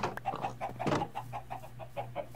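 A chicken in the video game Minecraft Sky Factory 3 clucks in a quick, steady series of short, moderately loud calls over a low background hum, with a brief louder clatter near the start and no talk.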